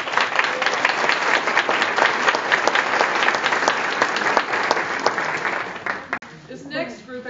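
Sustained applause from a large audience at a college staff recognition day, dense steady clapping filling the room for several seconds before tapering off near the end.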